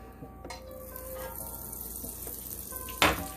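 Butter sizzles softly in a pan under a frying grilled cheese and bacon sandwich, with scattered pops and crackles and one sharper, louder spatter burst near the end.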